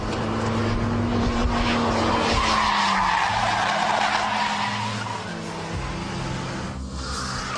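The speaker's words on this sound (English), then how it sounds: "So that's the handbrake turn" A car drifts through a handbrake turn, its tires skidding and squealing loudly and continuously over the engine's drone, with the slide easing off near the end.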